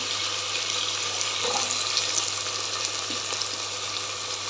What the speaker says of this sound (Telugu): ఇప్పుడు అట్లే ఆనియన్స్ కూడా వేసేస్తాను